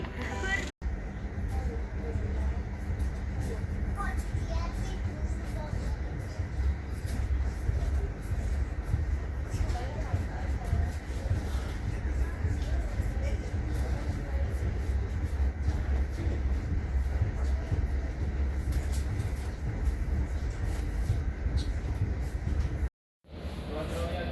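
From inside the Kahuripan passenger train in East Java, a steady broadband rumble of wheels and carriage runs throughout, briefly cutting out near the end.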